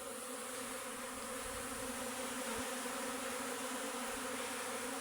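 A dense, steady buzzing of a swarm of escaped honeybees fills the air continuously, close and even in loudness throughout, with no voices.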